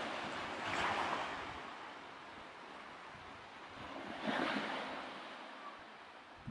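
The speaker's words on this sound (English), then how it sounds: "Just the plashing of the waves," Surf from waves plashing on a quiet, deserted Isle of Wight shore, a steady wash with two swelling breaks near the start and middle, amid some wind on the microphone.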